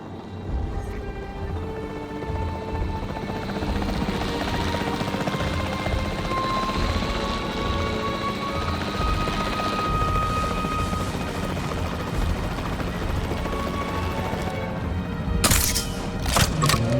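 Capture team helicopter in Jurassic World flying overhead, a loud continuous rotor drone and turbine hum sustained throughout, ending with a couple of sharp cracks.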